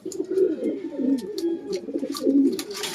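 Racing pigeons in a loft cooing close by, soft repeated throaty coos overlapping in a steady murmur, with a few faint clicks and rustles around them.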